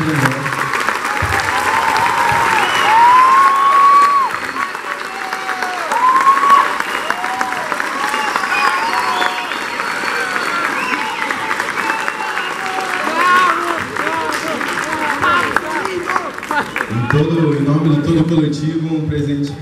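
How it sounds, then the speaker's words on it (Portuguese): A crowd at a graduation ceremony applauds loudly and steadily for nearly twenty seconds, while a voice talks over the clapping. "peço a todos uma salva de palmas para o nosso secretário general"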